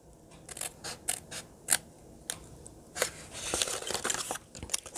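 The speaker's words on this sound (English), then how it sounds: "we'll go ahead and cut this whole thing off" Scissors snip through a paper gift box template, a string of sharp, irregular cuts and crisp paper rustles heard close up with no talking.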